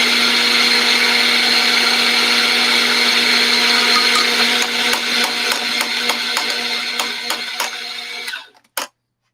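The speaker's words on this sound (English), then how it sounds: "So we're going to grind some coffee and then pull a shot." Coffee beans grinding in a burr grinder ahead of pulling an espresso shot, a loud steady mechanical whir with rattling ticks that thins out toward the end before a sudden stop and a final click.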